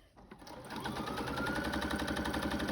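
A sewing machine back stitches fabric for a book sleeve, starting with a few clicks and then settling into a close, steady, rapid rhythmic whir.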